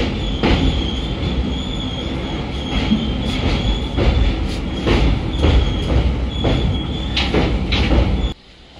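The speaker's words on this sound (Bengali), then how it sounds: "তো এই ট্রেন ছেড়ে বেরিয়ে গেল বালেশ্বর থেকে। এখানে মোটামুটি 3 মিনিট 4 মিনিটের মতো দাঁড়ালো সম্ভবত। এবার বেরিয়ে গেল।" An Indian Railways special train from Puri to Shalimar pulls out of Balasore station, its steady close rumble and clattering wheels running throughout with a high squeal over the top, the noise cutting off abruptly near the end.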